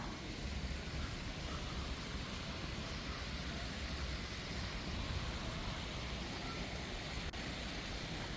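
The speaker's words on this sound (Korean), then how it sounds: "물소리가 들립니다." Water from a fountain in the central landscaped garden of an apartment complex splashes in a steady, continuous rush, close and even throughout, with no voices.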